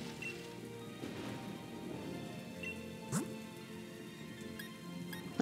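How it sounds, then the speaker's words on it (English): Rain falling in the Pokemon Sword video game, a soft, steady patter of drops with a faint rising chirp near the middle and no one speaking. "What's everybody doing out here in the rain?"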